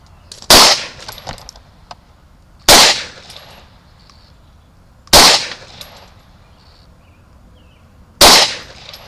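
Hi-Point C9 9mm pistol fired four times at roughly even intervals of about two and a half seconds, each shot loud and sharp with a short ringing tail outdoors, no talk between them.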